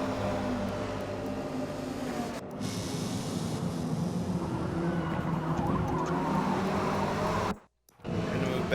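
Race cars in a GTCC racing video game broadcast make a continuous engine drone and tyre noise that holds steady for several seconds, with a brief dropout near the end.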